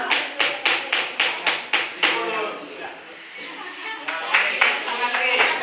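An audience at a school debate competition claps in a quick, even rhythm of single claps that gives way to looser scattered applause after a brief lull.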